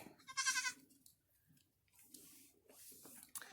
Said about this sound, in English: All the goats are kind of enjoying it.